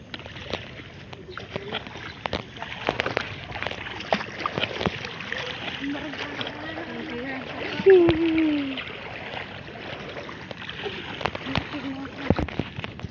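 Water trickles and splashes softly in a shallow stream near the sea, with occasional louder splashes and a voice speaking briefly in the middle.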